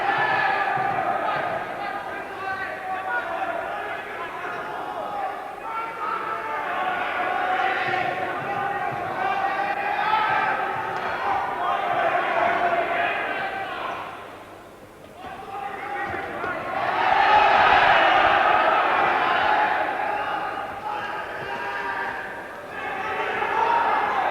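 Boxing hall crowd roaring and cheering for Donnie Hood during his 12-round bout against Samuel Duran, a dense sustained wall of voices that dips briefly then swells louder again, with a commentator talking over it.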